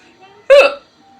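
A woman gives a single sharp, voiced hiccup, close and loud, after a moment of near silence.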